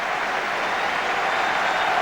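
A large stadium crowd applauds Beckham's first touch at the 1998 Munich Memorial football match, Manchester United against a Rest of the World XI, a dense, loud, continuous roar of clapping with no talk over it.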